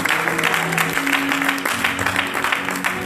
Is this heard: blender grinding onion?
no